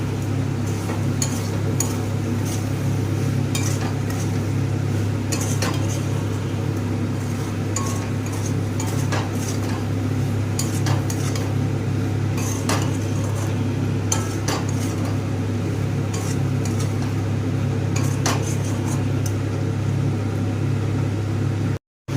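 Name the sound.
mixing okra do pyaza ingredients together in a pan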